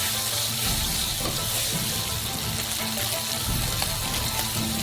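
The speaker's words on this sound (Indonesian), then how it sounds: "Pertama, goreng sedikit." Black beans and small chilies fry in a wok with a steady, close sizzle and hiss that runs without a break.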